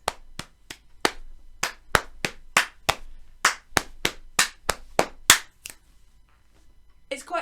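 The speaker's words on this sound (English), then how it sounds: "your pats can get louder" A Year 5 class pats their thighs together in a steady rhythm, about seventeen sharp slaps that grow louder as the phrase builds, then a pause and a softer rustle at the end.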